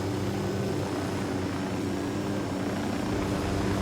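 Helicopter in the Ghost Recon Wildlands video game, a steady dense rotor and engine roar filling the whole clip at constant loudness with no talk over it.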